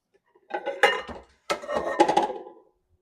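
A mixing bowl is pulled out in a home kitchen while baking pumpkin streusel muffins, with dishes clinking and clattering in two short bursts of knocks and rattles.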